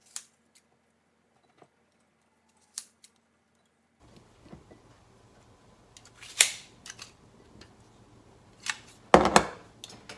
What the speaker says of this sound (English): I'm gonna take my strawberry cutter and cut the strawberries up while the pancake is cooking.